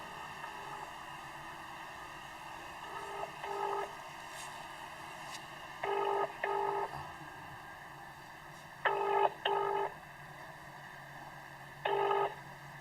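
An unanswered phone call rings back over the line, with repeated double tone bursts separated by pauses against a faint steady hiss.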